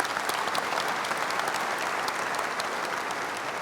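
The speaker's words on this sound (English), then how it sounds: "How about a round of applause for Nova Media and what they're doing?" Sustained audience applause fills a conference hall during a general session keynote in Barcelona, a dense, steady clapping from a large crowd that holds at an even level throughout without a break.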